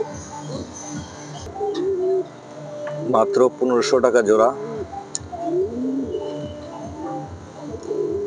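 Mukhi pigeons give soft, repeated low coos close by, heard under someone talking.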